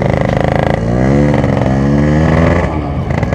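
A motorcycle engine revving hard with the clutch held in, loud and close, its throttle blips rising into a sustained high roar before dropping back.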